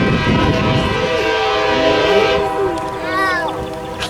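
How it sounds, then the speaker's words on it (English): Passenger train on a scenic railway sounding its horn, a long loud sustained multi-tone blast close by that fades near the end as voices chatter faintly underneath. "He's blowing a horn."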